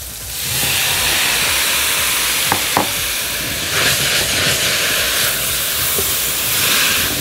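Potatoes fry in a hot pan with a loud, steady hiss and sizzle that stays close and continuous throughout, with a few brief clinks and no talking.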